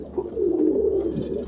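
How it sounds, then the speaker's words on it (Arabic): Domestic pigeons coo in a loft, a low steady throaty rolling call lasting over a second, close and clear with no talk. "لو انت مربي حمام في سلكات وفي حمام تاني عندك سايب"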